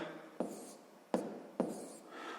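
Numbers are written by hand on paper in three short, quiet pen strokes, each starting with a soft scratch and trailing off, spaced apart in near silence.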